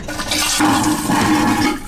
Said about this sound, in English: everyone's favorite, the toilet flush